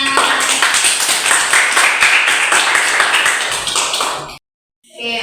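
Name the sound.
applause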